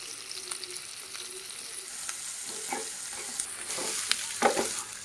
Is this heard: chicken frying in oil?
yes